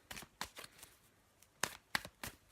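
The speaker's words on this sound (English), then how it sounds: "I'm just going to give it a good shuffle" Tarot cards being shuffled: soft crisp riffles and slaps in short irregular bursts, close and quiet, with no talking.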